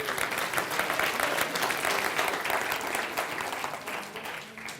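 A room full of people gives a round of applause for someone called up front, dense continuous clapping that holds steady and tapers slightly at the end.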